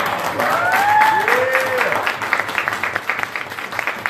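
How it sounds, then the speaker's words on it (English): An audience claps for a performer at a church event, a dense burst of applause with a few whoops and cheering voices at the start, settling into distinct individual claps as it winds down. "Let's give one more round of applause for him."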